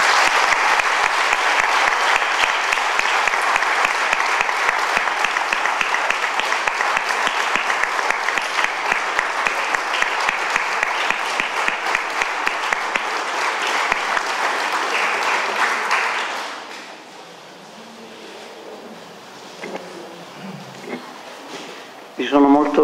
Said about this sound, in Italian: chiedendovi di tributarle un applauso